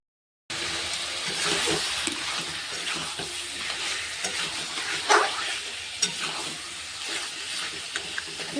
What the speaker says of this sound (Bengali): ভালো করে মশলাগুলোকে কষে নেব যতক্ষণ না মশলার গন্ধটা না যায় ততক্ষণ অবধি